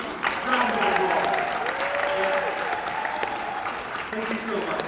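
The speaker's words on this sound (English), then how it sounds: "Round of applause." A crowd applauds steadily at a costumed madrigal feast, honoring a couple's 28 years of marriage; dense clapping fills the room throughout, with a voice and faint tonal sounds mixed underneath.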